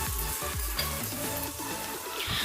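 Spice paste frying in oil for a Bengali chicken curry with papaya and potato, stirred steadily: a continuous close sizzle with repeated scraping strokes of a spatula across the pan, no voices.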